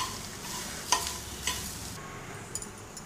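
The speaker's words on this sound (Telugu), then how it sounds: "కొబ్బరి తురుము అంతా కొంచెం తాలింపులో కలిసేటట్టు కలుపుకుందాం" Grated coconut stirred into a sizzling tempering for a coconut curry: a soft continuous frying hiss with a few sharp spoon scrapes and clicks against the pan, close by and without talk.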